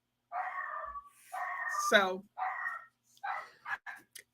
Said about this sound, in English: you can hear the puppy in the background